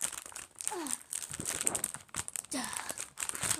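A package is opened by hand, its plastic wrapping crinkling and rustling in several close bursts with short pauses between handfuls, and a few faint vocal sounds in the background.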